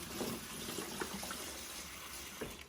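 Water pours into a container holding shallot roots in a soft, steady trickle and splash, faint and close, with no voices.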